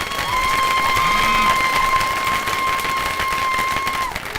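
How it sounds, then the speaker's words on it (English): Married members of a comedy club audience break into a steady round of clapping that holds at a strong, even level for several seconds, with a faint tone running over it. "I'm going to ask you to respond by round of applause."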